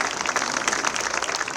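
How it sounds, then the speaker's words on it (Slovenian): An audience at a new parking garage's opening ceremony in Koper applauds two climbers, a dense, even burst of clapping from many hands, close and loud, without speech. "Predlagam, da najprej zaploskamo plezalkama"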